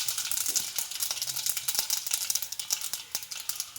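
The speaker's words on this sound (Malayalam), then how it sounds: "ഇത്തിരി കടുകിട്ട് എടുക്കുക." Mustard seeds sizzle and pop in hot oil at close range, a dense crackling hiss scattered with sharp little pops all the way through, with no voices over it.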